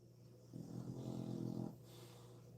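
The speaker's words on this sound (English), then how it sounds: "Now the dog want to be snoring like" A dog snores in a low, rumbling burst lasting about a second, loud and close over a steady background hum, with no one talking.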